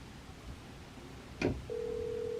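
After a brief click and background hiss, a steady electronic telephone ringing tone begins and holds.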